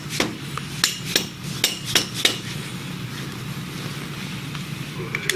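A hammer gives a series of light metallic taps on an ATS Systems chuck during maintenance, about seven quick ringing knocks in the first few seconds, then softer clinks over a steady background hum.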